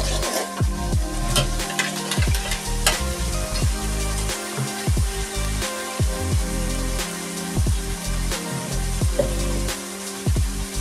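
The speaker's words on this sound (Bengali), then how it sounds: "মশলাটাকে ভালো করে কষিয়ে নেবো।" Spice masala sautéing in a pan for a red chicken curry, a continuous close sizzle with repeated stirring scrapes and small clinks throughout, no voices.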